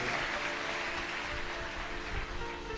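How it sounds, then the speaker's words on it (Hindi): An audience at a Shiv Mahapuran katha claps loudly for the saints, a dense continuous wash of crowd applause with steady hiss, heard alone and without speech. "एक बार जोरदार ताली बजाकर संतों के लिए।"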